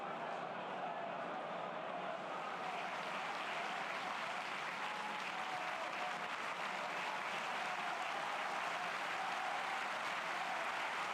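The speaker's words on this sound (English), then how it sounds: "The applause you can hear is for Josh Windass, who's going off down beneath us." Football stadium crowd at Wrexham v Ipswich Town applauding a substituted player as he leaves the pitch, a steady, broad wash of clapping from the stands that holds evenly throughout, moderately distant with faint crowd murmur beneath.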